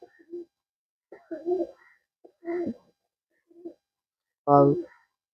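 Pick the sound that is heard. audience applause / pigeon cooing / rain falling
pigeon cooing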